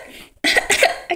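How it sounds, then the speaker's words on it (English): A close, harsh cough breaks out after a brief silence, followed moments later by a shorter second cough. "I cough in your face"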